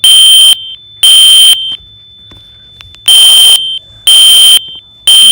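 A house fire alarm in a medical care facility sounds loud, piercing beeps in a regular on-off pattern, about four long tones separated by short silences, close and alone.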